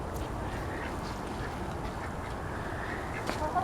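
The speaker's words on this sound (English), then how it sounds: "here's my ducks in a row" Farmyard ducks on a small homestead quack softly at a distance, a few scattered calls over faint outdoor background noise.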